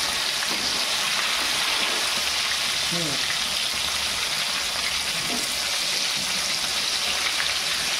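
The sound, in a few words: Bombay duck (bombil) rolls frying in a pan on high gas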